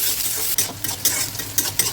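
Green chilli and onion frying in hot oil in a kadai, stirred briskly so that repeated scraping strokes cut through a loud, continuous close sizzle.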